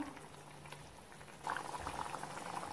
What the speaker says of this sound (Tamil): நல்லா கிண்டி விட்டுலாம் கொதிக்கட்டும்